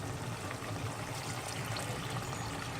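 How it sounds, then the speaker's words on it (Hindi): Water is poured into a covered cooking pot of salted beef simmering for an Eid meat dish, a soft steady trickling and splashing with no talk. "मैं थोड़ा सा और पानी ऐड कर रही हूँ"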